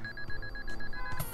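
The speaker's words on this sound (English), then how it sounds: "I love the sound of car alarms going off." A car alarm goes off with a rapid train of repeated electronic beeps, steady and fairly close, ending in a brief louder burst.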